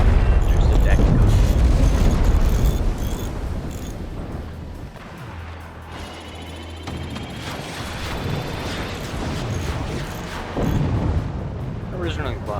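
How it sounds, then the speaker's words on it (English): Deck gun blasts in the naval strategy game Forts, deep booming explosions and rumbling battle noise layered thickly and loudly, with a voice talking over the din. "Just a deck gun."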